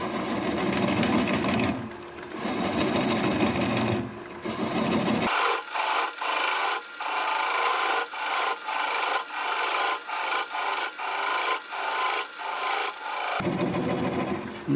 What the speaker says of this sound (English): I'm going to take a 3/8 inch swept back bowl gouge so I can get in there a little bit closer.